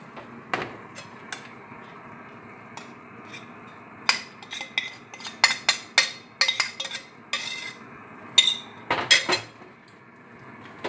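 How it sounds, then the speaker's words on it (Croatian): A wire whisk mixes eggs with carob and bananas in a bowl for a banana cake, making irregular metallic clinks and taps against the bowl, close and alone without talk. "To sad radim sa žicom, znači mikser ostavljam."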